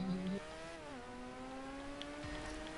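A car engine in the video game GTA 5 hums steadily with shifting revs, one brief louder burst at the start, heard alone at moderate distance.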